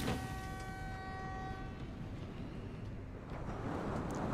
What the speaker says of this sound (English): Need to decouple the train before proceeding.